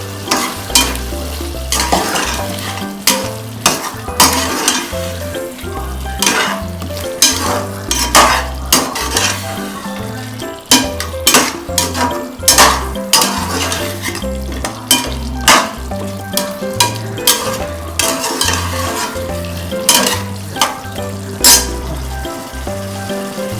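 Fried drumsticks and potatoes being stirred into bubbling tomato puree, with loud, rhythmic clanks and scrapes of a ladle against the pot over a constant sizzle.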